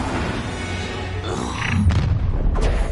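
A Confringo explosive spell in Hogwarts Legacy bursts with a deep, booming rumble under dense game noise, followed by a couple of sharp impact bursts near the end.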